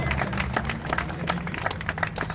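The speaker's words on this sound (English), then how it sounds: "Let's give all the city staff an applause." Audience applauding city of Minneapolis staff at a public announcement, a dense steady patter of many hands clapping throughout with low background rumble.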